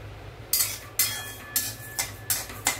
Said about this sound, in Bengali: গোবিন্দভোগ চালটাকে আমি একটু শুকনো খোলায় নেড়ে নিচ্ছি